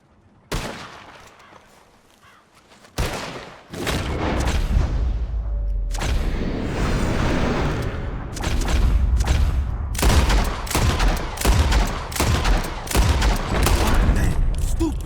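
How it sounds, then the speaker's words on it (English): Rapid gunfire in Red Dead Redemption 2 as players shoot birds out of the sky, loud repeated shots and booms packed densely over most of the stretch after a quieter opening. "whoever shoots 4 birds out of the sky first, wins"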